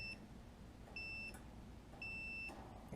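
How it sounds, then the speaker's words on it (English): A continuity tester checks dryer heater coils and gives three short, clean electronic beeps, each lasting about a third to a half second, spaced roughly a second apart over a quiet background. "A beep is good."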